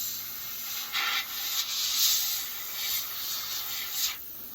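Airbrush spraying black Tamiya paint for pre-shading on a primed Eduard B-25J scale model: a steady close hiss with slight swells as the spray is pulled back, no voices.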